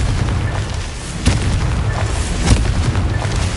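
Blasting spell explosions from Hogwarts Legacy burst out as two sharp booms about a second apart over a low rumbling game ambience, fairly loud with no speech during the blasts.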